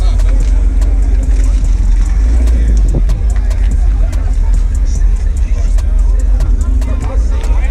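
An LS-swapped car engine idles at a busy car meet, a deep low rumble with rhythmic loping pulses and a brief rev, under crowd chatter and nearby voices.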